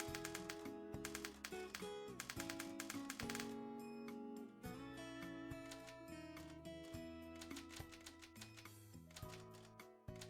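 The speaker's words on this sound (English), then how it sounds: "It's a typewriter sound effect" A typewriter sound effect clatters in rapid, continuous key strikes with occasional pauses, quiet and blended under a dense musical backing.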